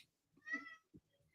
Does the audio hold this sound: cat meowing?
yes